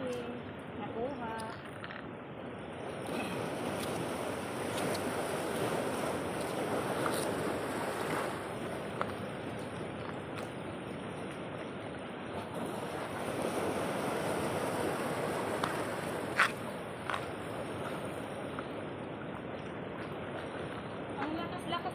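Strong waves wash continuously onto an island shore where seashells are being gathered, a broad steady roar buffeted by wind noise on the microphone, with a person talking faintly at times.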